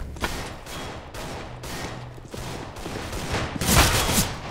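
Gunfire in Counter-Strike: Global Offensive, a rapid series of sharp shots fired in repeated bursts, growing louder toward the end, with no talk over it.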